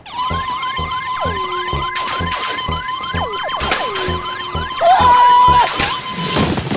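A voice imitates the warbling, siren-like whine of the Space Invaders mothership, a repeating sweeping electronic tone held steady and fairly loud, with other people shouting and reacting partway through.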